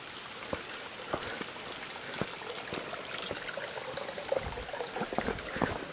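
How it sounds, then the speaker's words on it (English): Falling water at a small waterfall in Solstice Canyon, a continuous rushing, splashing wash with scattered drip and splash accents, heard from a short distance at moderate-to-faint level without talk. "Waterfalls up here, babies."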